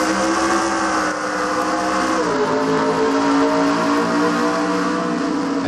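Race cars in a NASCAR racing video game roar together as the field takes the green flag, a dense, continuous engine drone with rising pitch sustained throughout, loud and close with no talking.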